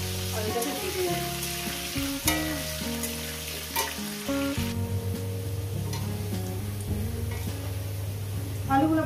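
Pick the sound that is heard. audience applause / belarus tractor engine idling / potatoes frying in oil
potatoes frying in oil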